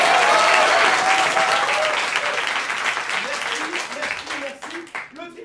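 Audience applause voting an innocent verdict in a mock court, steady crowd clapping that gradually fades, with voices talking over the last seconds.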